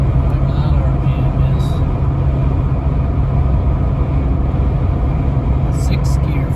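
Jeep Gladiator pickup cruising at 80 mph in 6th gear with 4.88 axle gears and 37-inch tires, a steady loud low engine drone and road rumble filling the cabin throughout, with brief faint high clicks near the end.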